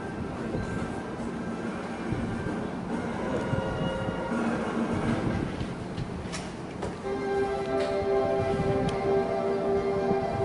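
A model train runs on a JR Keiyo Line layout at a hobby shop, its steady rolling rumble continuing throughout, with faint wheel clicks and a tonal hum joining late.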